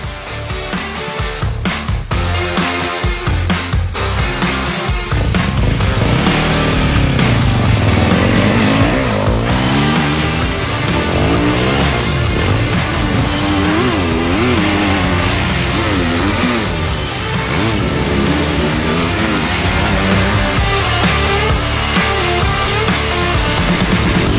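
Kawasaki KX250 and KX450 2021 motocross bike engines revving and roaring continuously on a dirt track, pitch rising and falling as bikes accelerate and shift, loud and close throughout.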